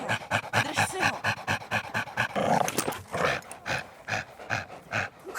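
A pit bull at a staff bull show and obedience training pants hard and fast, with short growls mixed into the rhythmic breathing, loud and close, with no talking.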